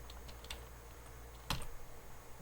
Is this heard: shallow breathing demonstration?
no